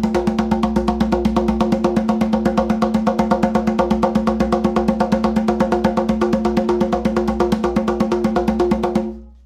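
A shamanic frame drum is struck in a fast, unvarying pulse of about eight beats per second, dense and droning with overtones, loud and close, then cutting off abruptly at the end.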